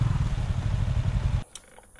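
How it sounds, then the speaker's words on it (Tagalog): A motorcycle engine rumbles loudly and close during a long North Luzon road trip. It runs steadily for about a second and a half, then cuts off suddenly, leaving faint clatter and near quiet. "Ito ba yung motor ni Berting?"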